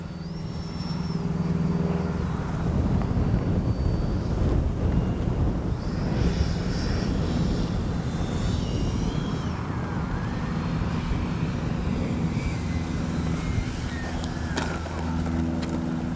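Freewing 90mm F-22 RC jet coming in to land with gear and flaps down, a steady whooshing ducted-fan whine at moderate distance, shifting slightly in pitch as it approaches.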